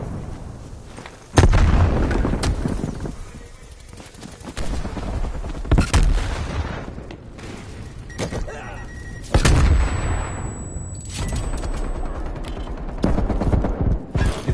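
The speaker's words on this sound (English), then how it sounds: "Throwing frag!" In a Call of Duty Black Ops Cold War multiplayer match, a frag grenade goes off with a loud, close blast amid repeated gunfire bursts, with several more sharp impacts following.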